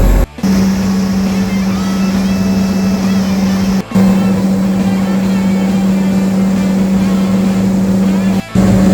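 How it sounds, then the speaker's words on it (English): A construction equipment diesel engine idles steadily through a regeneration burn, giving a loud, constant drone with a strong low hum and brief dropouts, with no speech. "It's currently going through a burn."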